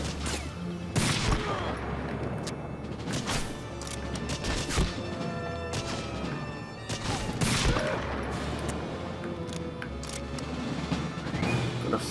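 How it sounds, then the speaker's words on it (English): Dense, continuous gunfire and explosive impacts from the World War II shooter Medal of Honor: Frontline on PS2, during the Derailed mission, with sharp bursts and crashes layered over a steady battle din for the whole stretch. "Where the fuck's that shot coming from?"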